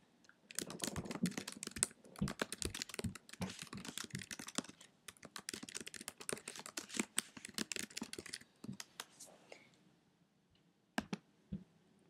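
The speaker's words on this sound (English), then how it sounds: "So I'm just going to type in a quick question." Fast, uneven keystrokes of a question being typed on a computer keyboard, close and dense for about nine seconds, then a pause and a few final isolated clicks, with no talking.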